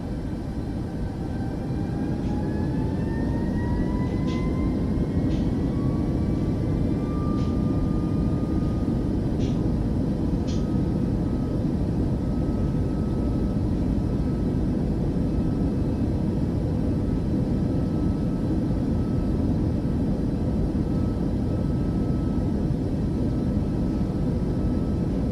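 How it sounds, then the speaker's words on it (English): Airliner engines roar in a steady, dense rumble during a takeoff roll in Microsoft Flight Simulator 2024, with rising whines and a few faint clicks over the first seconds, continuous and close for the whole stretch. "Ladies and gentlemen, prepare for takeoff."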